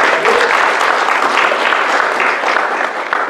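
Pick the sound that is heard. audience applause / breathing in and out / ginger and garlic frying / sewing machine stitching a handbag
audience applause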